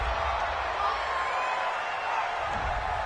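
A home stadium crowd roaring approval in Madden 20, a steady broad wash of cheering and whoops at moderate loudness across the whole stretch.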